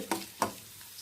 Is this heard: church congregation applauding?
no